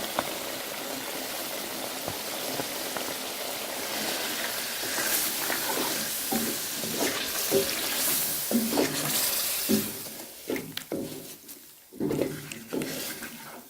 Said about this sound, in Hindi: दही को अच्छे तरीके से मिक्स कर लें।